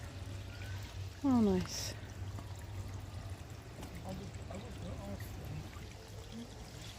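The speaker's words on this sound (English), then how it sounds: "There's a lovely little water feature in memory of a lady." Water trickles steadily from a small memorial water feature in the historic market town of Faversham, Kent. It is a soft, continuous flow, and a person speaks briefly over it near the start.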